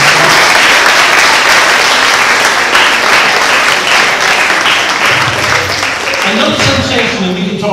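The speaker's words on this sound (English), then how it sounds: "Give them a round of applause." An audience applauds at a college talk, steady dense clapping throughout with a voice speaking over it near the end.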